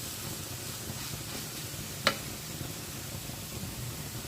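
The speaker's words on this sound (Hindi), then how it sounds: "हल्की आंच पे इतना भुने कि इसका घी अलग नज़र आने लगे" Besan (gram flour) roasting in ghee over low heat, a steady soft sizzle and hiss close by with one brief sharp tick midway, no voices.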